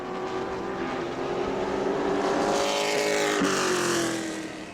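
A Pro Late Model race car, number 6, roars past on the New Smyrna speedway during qualifying, its engine note climbing and bending in pitch as it goes by, loud and close.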